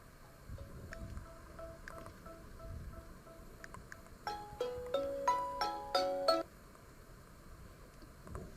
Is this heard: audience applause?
no